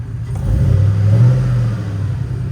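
A 2004 GMC Yukon Denali AWD engine revs up once and settles back, a close, smooth mid-pitched rise that swells and fades over a couple of seconds with no talk.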